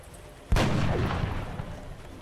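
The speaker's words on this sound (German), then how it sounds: "Und daneben geschossen." A single loud in-game gunshot from XCOM: Enemy Within, a shot that misses its target, cracks sharply and then fades into a long rumbling tail with no voices over it.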